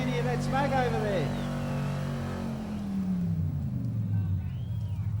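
Car engine roaring at high revs during a burnout at a Summernats burnout elimination event, a loud sustained drone whose pitch sinks steadily under a crowd din, with a person speaking over it.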